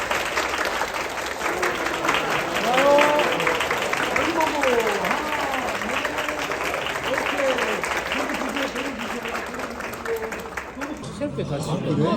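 A group claps and applauds at a wedding bouquet photo shoot, steady dense clapping close by for most of the span, with voices talking and calling out over it.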